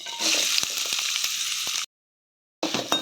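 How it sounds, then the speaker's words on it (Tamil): Onions fry in hot oil in a kadai with a close, steady sizzle and a few clacks of stirring. The sound cuts to silence briefly, then the sizzling resumes. "எண்ணெய் சூடு வந்தோன்னா அதில் வெங்காயத்தை போடுறோம்"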